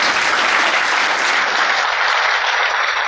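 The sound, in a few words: audience applause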